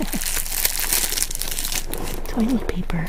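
Plastic packaging around a toilet paper roll from an earthquake readiness pack crinkles and crunches steadily up close, and a voice speaks briefly near the end.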